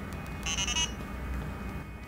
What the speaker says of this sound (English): A new feature on this year's board is an audible sounding device.